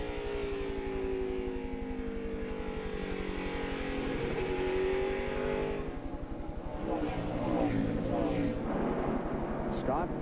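A NASCAR Busch Series stock car roars around Indianapolis Raceway Park during the 2002 Kroger 200, its engine drone rising and falling in pitch as it accelerates and lifts, loud and continuous throughout.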